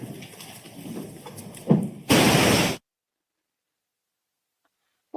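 A burst of broadband static white noise, played during a courtroom sidebar in a murder trial, cuts in loudly after faint room sounds and runs for under a second before dead silence.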